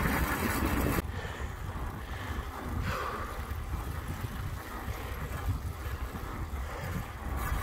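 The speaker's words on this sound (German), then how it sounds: "Das Profil ist nur so unheimlich laut." Knobby e-bike tire tread rolling loudly over a trail with the motor switched off, a steady close broadband roar with wind buffeting the microphone throughout.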